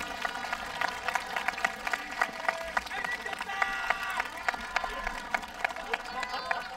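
An audience at a Buddhist temple festival and memorial rite honouring returned relics claps in a sustained wave of applause. It is fairly distant and even, with scattered louder claps and no voices heard.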